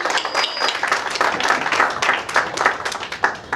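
An audience at a school Teachers Day function applauds the music department, a moderately loud patter of many hands with uneven individual claps standing out, slightly thinning toward the end.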